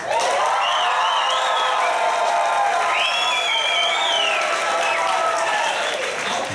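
Loud, sustained applause from a large theatre audience in Fuquay-Varina, North Carolina, with scattered whoops and cheers rising over the clapping throughout.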